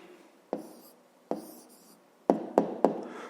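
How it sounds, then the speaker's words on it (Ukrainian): Hand-written answer to a math exercise, heard as a handful of close, sharp taps and short scratches of pen strokes spaced irregularly over quiet room tone, with no talking. "зараз давайте тоді запишемо відповідь. Пишемо відповідь."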